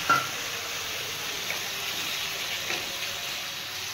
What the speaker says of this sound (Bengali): এবারে আমি ভালো করে এটাকে কষাবো।